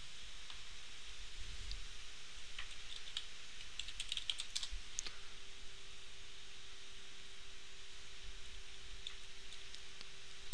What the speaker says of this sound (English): Then press return, type in your password